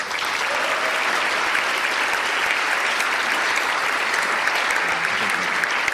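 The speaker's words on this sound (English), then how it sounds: "Let's give them a big round of applause." Steady, loud applause from an audience at an upper school awards ceremony, continuous dense clapping from many people filling the room without pause.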